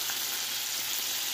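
Marinated eel sizzling in a hot pan, giving a steady, dense, close frying hiss that runs unbroken from start to finish with no talking.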